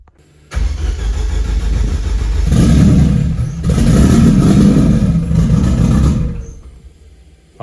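A car engine cranks and catches, then runs steadily, revving up twice in loud, close surges before settling and cutting off, with no talking over it.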